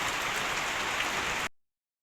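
Steady, dense rain hisses on a hard surface, a continuous wash of drops that stops abruptly.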